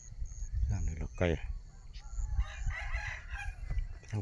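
Rooster crowing on a farm in the morning, with two short, fairly faint crows and some clucking mixed under people talking in Thai.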